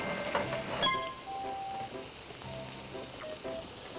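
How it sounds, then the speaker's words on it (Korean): Kimchi stir-fries in a pan at a night campsite, a steady sizzling hiss with faint scraping and a few clinks, close and continuous. "이 김치를 볶는 것도 처음이라서 뜰지"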